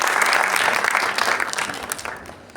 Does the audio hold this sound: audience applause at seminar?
yes